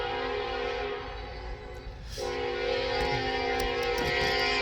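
A train horn blares in a long, steady sustained tone, loud and close, with a brief dip midway before sounding again over rumbling rail noise.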